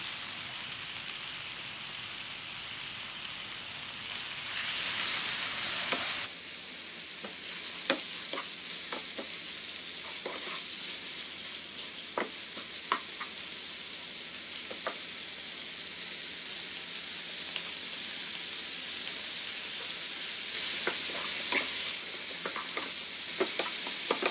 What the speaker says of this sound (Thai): ผัดหอมแล้วใส่เนื้อลงไปค่ะ